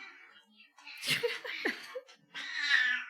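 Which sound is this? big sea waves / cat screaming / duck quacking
cat screaming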